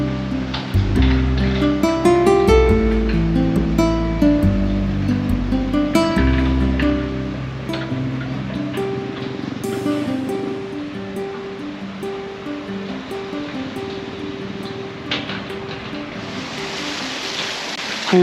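Water rushes steadily over a river weir on the Mae Ping in Chiang Mai, Thailand, a continuous broadband roar. Musical tones ring over it during the first half, then the water carries on alone.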